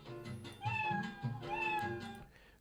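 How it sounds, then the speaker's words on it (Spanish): A cat meow sound effect plays inside a Scratch game, several drawn-out, clear meows following one another with no talking over them. "vamos a hacer que reproduzca el sonido del miau"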